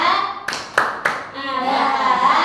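Preschool children join a teacher in a rhythmic cheer clap, three sharp claps in sequence, with children's chanting voices between and after them.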